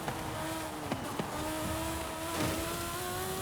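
A small car with big wings lapping a track in Forza Horizon 5, the engine note rising through gears with quick shift dips, a continuous loud revving drone.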